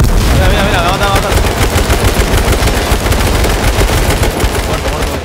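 Gunfire in the H1Z1 battle royale game comes as a loud, dense, continuous stream of rapid shots with heavy blasts mixed in, unbroken for the whole stretch.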